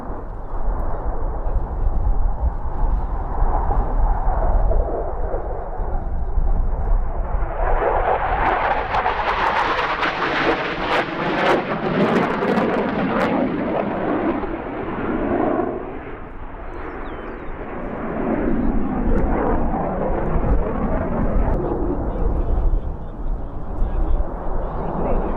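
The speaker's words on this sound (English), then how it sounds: "from the right, the F-16 in a slow roll along the show line" A simulated F-16 jet performing a slow roll along the show line in a Roblox aerobatic display, a loud continuous engine roar that swells and sweeps past, with a commentator's voice underneath.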